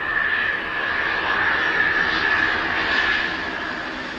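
Steady, droning roar of a jet airplane engine on a flight to Dublin, heard from inside the cabin, constant and moderately loud with a faint whine.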